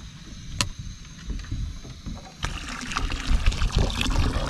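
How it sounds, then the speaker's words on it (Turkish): Hot water from boiled eggs drains off aboard a small boat, an irregular trickling and splashing with a couple of sharp knocks, rising louder in the second half, close by and without talk. "Bu şekilde mesela yumurtayı süzüyoruz şu anda"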